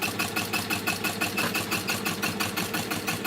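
Sewing machine running steadily as it stitches cork fabric and PU trim for a case, a fast, even mechanical whir with a regular needle rhythm, close and continuous with no talking.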